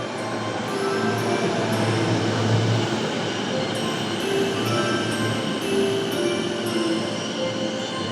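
Onboard a moving JR train in Japan, a steady loud rumble of wheels and carriage noise fills the whole stretch, with faint high squeals over it and no voices.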